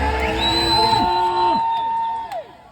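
A crowd at an outdoor gospel meeting shouts and cheers loudly and continuously, with drawn-out rising and falling whoops and ululating voices over the roar.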